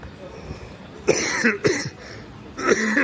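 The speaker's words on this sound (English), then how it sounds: "Still got this wonderful cough." A person coughs several times in short, harsh bursts, close by, with brief pauses between them.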